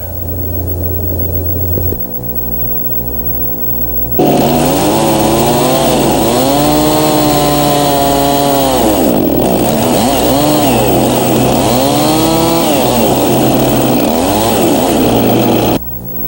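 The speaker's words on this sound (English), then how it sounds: "Lay out and cut this tenon the usual way, and this post will be complete." A loud, close chainsaw cuts a tenon in a timber post, idling briefly before revving hard into a sustained, wavering cutting whine that runs nearly to the end.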